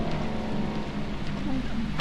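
Rain falls in the video game Deadly Premonition Origins, a constant dense hiss with a heavy low rumble and no clear speech over it.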